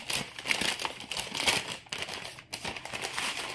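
Paper stuffing crinkling and rustling close by inside a toy changing bag, continuous scrunching with a few brief pauses, no one speaking.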